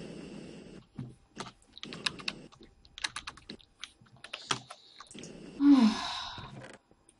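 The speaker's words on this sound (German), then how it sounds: "Ich hoffe, man hört am Simon sein Klicken und so nicht so laut." Keyboard typing and clicking at a computer during a Minecraft gaming session, a run of soft, close taps in short bursts, with a sigh and a brief breathy swell near the end.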